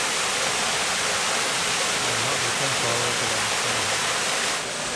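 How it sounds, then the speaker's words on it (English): A waterfall on a Grand Canyon hike roars in a steady, dense wash of noise, loud and continuous for the whole stretch with no speech over it. "Beautiful waterfall."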